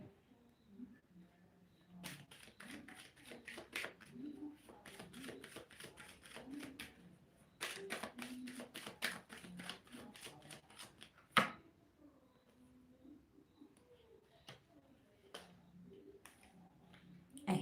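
Tarot cards riffle and slap together in repeated quick bursts during a reading, fairly faint, with a low voice murmuring in places.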